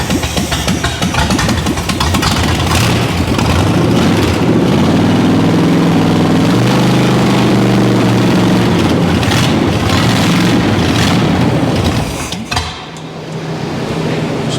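Engine with a carburetor missing its accelerator pump runs loud and rough, a dense steady rumble close by for most of the span before dipping near the end.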